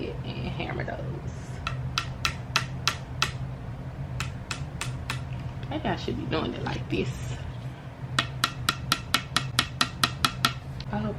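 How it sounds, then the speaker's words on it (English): Sharp, rapid hammer taps drive pieces into the sides of an IKEA Billy bookcase during a closet build, coming in bursts of evenly spaced knocks separated by pauses, with a person talking briefly between them. "Let's go ahead and hammer those."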